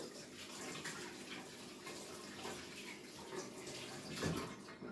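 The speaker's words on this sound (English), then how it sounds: "Wash my hands again." Hands being washed under a running kitchen tap while making homemade biscuits, a steady broadband splash of water flowing continuously for several seconds with small surges, no talking.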